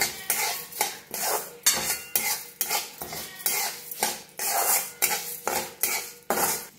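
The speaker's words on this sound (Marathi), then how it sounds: "आता मोहरी भाजून घेऊया, त्याला भी छान असं भाजून घेऊया" Mustard seeds roast in a little oil in a pan as a spoon stirs and scrapes against the metal in quick, regular strokes, close and fairly loud, with no talking.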